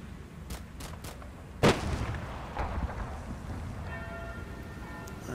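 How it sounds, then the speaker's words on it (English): Mortar fire in the World War II strategy game Combat Mission Battle for Normandy: a few dull distant thumps, then one sharp, loud blast followed by a rumbling tail, with no voices. "Here comes the mortars."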